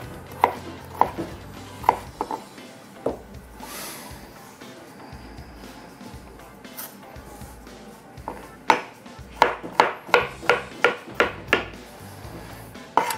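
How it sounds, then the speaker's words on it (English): Knife chopping potatoes into small, evenly sized pieces on a board: a few sparse cuts at first, then a quicker run of sharp, close rhythmic chops near the end, with no talking. "we want to cut it down, making sure that most pieces are identical or very similar in size"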